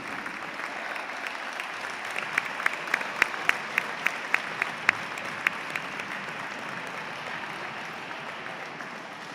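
Steady applause from a modest crowd for a women's roller hockey team fills the hall, with a few sharp claps standing out in the middle.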